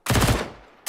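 A fast burst of MP9 submachine gun fire in Counter-Strike, about five close, sharp shots in quick rhythm, a short decaying tail, then another shot starting right at the end.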